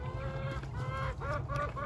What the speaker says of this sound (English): We have 3 new laying hens.